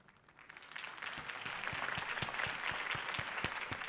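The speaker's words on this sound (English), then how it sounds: "If only Mr. Wayne, my campaign's largest backer, could have heard that applause" Crowd applause in a video game swells from quiet to steady, dense clapping that fills the space.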